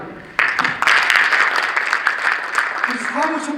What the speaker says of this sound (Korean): 우리 크게 박수 주시기 바랍니다